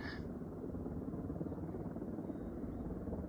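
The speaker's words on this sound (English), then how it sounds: "Can't see where the helicopters are." A helicopter spotting or fighting a mountain wildfire gives a steady, throbbing rotor drone that holds constant throughout, fairly faint and low, with no voices.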